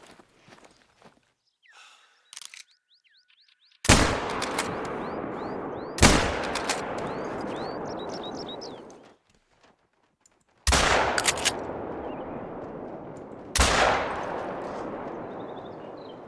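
Four booming hunting rifle shots in theHunter: Call of the Wild, each a loud close blast with a long rolling echo fading over seconds, separated by quiet outdoor ambience and faint bird calls.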